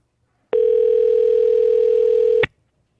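A radio station phone line gives a loud, steady telephone dial tone, a single pure hum that starts abruptly, holds for about two seconds alone, then cuts off with a click.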